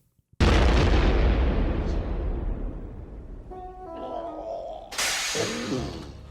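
A missile explodes with a sudden loud boom from the film Ernest in the Army. The blast fades into a long rumbling decay, and a second burst of debris noise comes near the end.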